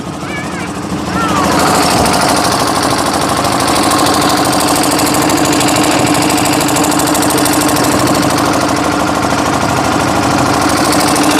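Fishing boat engine running loudly and continuously, a heavy rapid knocking drone that starts up after a couple of seconds and holds steady, with voices faintly underneath.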